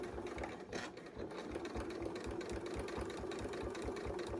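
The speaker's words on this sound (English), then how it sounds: "she's gonna open it up and sew it about an inch" A sewing machine stitches a seam on a fabric Christmas ornament, its needle running in a rapid, even mechanical chatter at close range for a few seconds.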